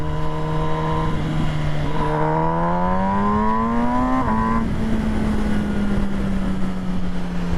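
An MV Agusta Brutale 1000 RS motorcycle engine revs up in pitch, drops briefly, then settles into a steady high whine, loud and close.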